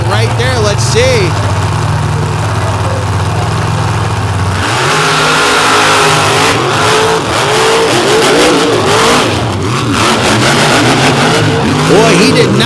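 Mega truck engines roar and rev hard during a semifinal race at a motorsport event, a loud steady drone shifting into surging, fluctuating revs with crowd and arena noise throughout.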